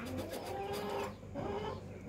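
A broody laying hen of the Black Star breed clucks low and steadily on her nest, close by, with soft continuous grumbling tones and other bird sounds in the background.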